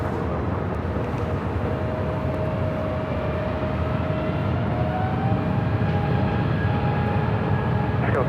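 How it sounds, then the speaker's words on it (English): A Southwest Airlines Boeing 737 MAX 8 arriving at LAX from SFO produces a loud, steady jet roar with a rising whine, continuous and close, like a plane passing overhead on approach. "Next arrival is Southwest Airlines flight 3801 coming in from SFO, a 737 at MAX 8."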